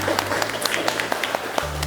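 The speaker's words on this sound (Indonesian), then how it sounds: "Tepuk tangan." Brief applause from an audience at a university lecture session, rapid scattered claps over a low hum, lasting under two seconds.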